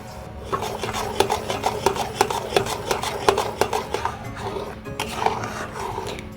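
Thick palm pulp being mixed with water by hand in a bowl, giving a steady run of close, wet rasping and squelching strokes in an uneven rhythm, with no voices.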